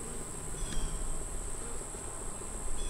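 Small swarm of honey bees with a red queen gathered at a long fence, giving a steady insect hum and buzz throughout, fairly faint and continuous with no talking.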